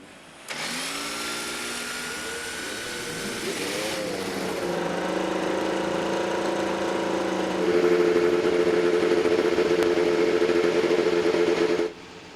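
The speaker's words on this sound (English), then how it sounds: "Drivers, start your Iowa Corn ethanol-powered engines!" Ethanol-powered IndyCar race car engines at the Iowa Corn 300 fire up together and settle into a loud, steady multi-engine idle, rising in intensity partway through before cutting off abruptly near the end.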